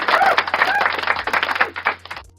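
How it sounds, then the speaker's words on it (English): Audience clapping at a motivational talk, a brief burst of dense applause that thins to a few scattered claps before stopping. "one of my mentors, the great Jonathan Borden, let's clap for him."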